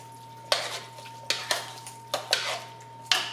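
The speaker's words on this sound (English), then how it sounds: "I'm just stirring this." A spoon scrapes and knocks against a pot of chicken pot pie filling. Six sharp, close metallic clanks come at uneven intervals over a low steady hum, with no talk.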